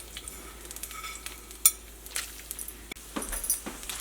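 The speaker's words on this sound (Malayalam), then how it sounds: "അപ്പോൾ ഇനി തേങ്ങക്കൊത്ത് ഒന്ന് വറുത്തിട്ടെടുക്കുക." Coconut pieces fry in oil with a soft, steady sizzle, punctuated by light clinks and scrapes of a utensil stirring against the pan, close and fairly quiet.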